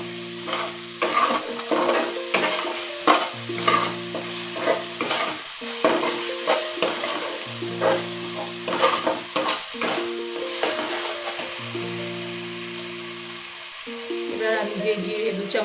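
Tomatoes with salt frying for mutton ghugni, stirred with a spoon that knocks and scrapes the pan in repeated strokes over a steady sizzle, close by, with a short pause near the end.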